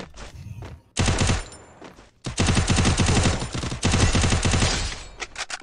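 Rapid automatic gunfire in a shooter video game: dense, loud bursts of shots, one short burst followed by long sustained volleys with a brief pause between.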